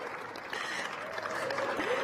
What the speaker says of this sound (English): so we can applaud you.